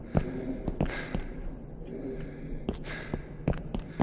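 Heavy, loud breathing close to the microphone, with sharp gasping inhales and sighing exhales repeating irregularly, plus a few clicks and thumps.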